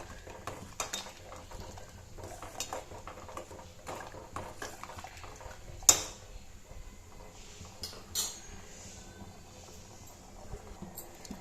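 Quiet, irregular scraping and clinking of a ladle stirring black kavuni rice porridge in a pot, with soft patters and a couple of sharper knocks.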